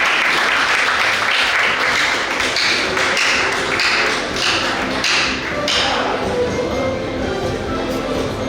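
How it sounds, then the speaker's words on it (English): Audience at a junior science and maths quiz giving contestants a loud, dense round of applause, steady clapping from many hands close by that fills the whole stretch. "Can you give them a big round of applause?"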